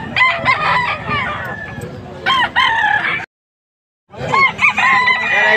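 Roosters crow repeatedly at close range, loud and harmonic, among gamefowl offered for sale in Angeles, Pampanga, with people chatting and haggling underneath and a short silent break midway.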